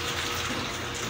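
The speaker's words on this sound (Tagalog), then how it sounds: "Ayan, at nagbubukas ako ng tubig." Water gushes steadily from a tap fed by a water pump on a morning in La Union, a continuous close hiss with no speech.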